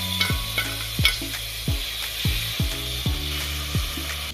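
Ground masala paste frying in a pan with softened onions and tomatoes for mutton biryani: a steady sizzle with about eight rhythmic spatula scrapes and stirs, close up, with no talking.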